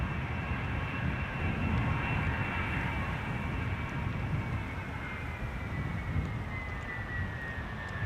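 An Embraer 190 jet airliner taxis at Amsterdam Schiphol Airport, its engines making a steady low rumble and a faint high whine that hold without pause, with mild wind noise and no talking.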